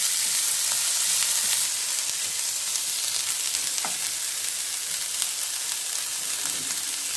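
Chopped green chilies and onions fry in a pan, producing a continuous, even hiss of sizzling oil with faint crackles, close and alone without any voices.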